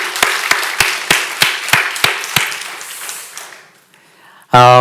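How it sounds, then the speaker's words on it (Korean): A church congregation gives a short round of clapping during a Korean Presbyterian Easter Sunday service, a few distinct rhythmic claps fading out, followed by a brief voiced sound at the end. "우리 이 시간 다 함께 영광의 박수를 하나님께 올려드립시다"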